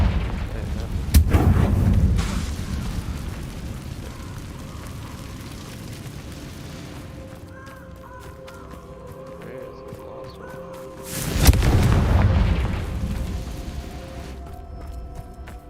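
Confringo spell blasts in Hogwarts Legacy land as two heavy, booming explosions several seconds apart, each with a long rumbling tail, separated by quieter game ambience with faint tonal effects.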